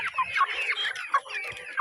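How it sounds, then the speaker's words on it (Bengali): Colombian breed chickens in mixed light, golden and silver colours cluck and chatter close by in a quick, uneven run of short calls, with no voices. "অরিজিনাল কলম্বিয়ান বাহবা মুরগি"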